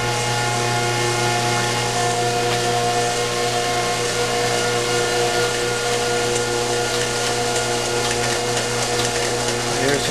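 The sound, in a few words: marine engine starting up on test stand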